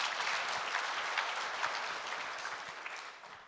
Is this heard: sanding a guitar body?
no